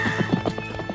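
A cartoon horse whinnies while its hooves clip-clop in quick, bouncy beats, loud and close in a short burst.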